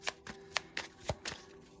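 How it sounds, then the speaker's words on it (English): Quick papery riffles and soft slaps of tarot cards being shuffled, several bursts in an uneven rhythm, close and quiet. "Shuffle the cards."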